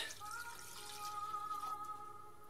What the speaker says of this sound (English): Now into there we add 2 cups of water